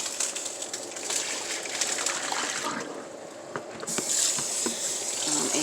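Hot liquid being poured off from a pot while cooking polk, a continuous splashing gush that swells louder toward the end, with no talking.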